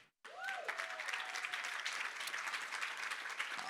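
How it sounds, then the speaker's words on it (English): A large audience bursts into sustained applause welcoming Chef Kwame Onwuachi onstage, loud and steady after a brief silent start, with a few whoops or whistles rising over the clapping. "Let's give a big round of applause to the only the one, Chef Kwame."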